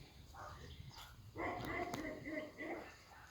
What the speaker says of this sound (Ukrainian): Ну, собаки чуєте?